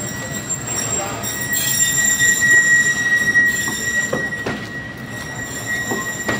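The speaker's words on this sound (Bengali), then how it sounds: "ট্রেন ছেড়ে দিল, এটা কিন্তু ইন্টারসিটি।" An intercity passenger train on the Rajshahi–Gobra route pulls away, heard close with a loud rolling rumble, rhythmic wheel clatter and a high, sustained wheel squeal.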